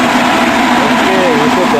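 Single-phase electric motor dynamo switched on and running, a steady loud hum with a rising tonal whine, heard close alongside a voice.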